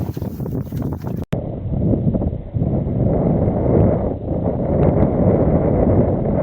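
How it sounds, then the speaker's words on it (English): Wind picking up at sea aboard a sailboat heading toward Lundy, a loud continuous rushing buffet with heavy gusty rumble against the microphone and a brief dropout early on. "Well, now the wind's picked up."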